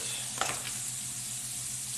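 Onions and mushrooms sizzle in a pan with a steady, close hiss, broken by a brief scrape of a wooden spoon stirring them.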